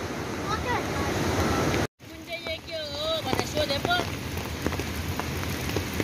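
Roaring, continuous rush of the flooded Marsyangdi river in monsoon flood, loud and close, with a short break partway through; people talk over the water noise.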